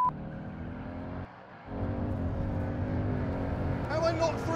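A 750hp Roush Mustang accelerates hard in a drag race, giving a loud, continuous engine roar that dips briefly, presumably at a gear change, then keeps building. The sound stays close and steady throughout.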